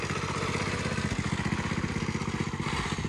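A small homemade mini motorcycle engine runs steadily nearby outdoors on a farm, with a fast, even putter throughout and no talk.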